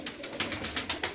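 A pigeon coos in soft, repeated pulses close by, about six short rhythmic calls over a low background, with no other voices.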